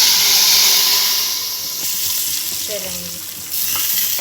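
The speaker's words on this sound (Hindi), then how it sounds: "अब दाल में बारी आती है दाल को तड़का लगाने की" Hot oil hisses and sizzles loudly as garlic hits the pan to temper dal, the sizzle easing slightly then swelling again, with a brief word spoken.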